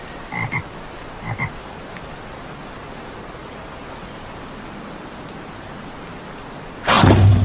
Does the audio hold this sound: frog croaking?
yes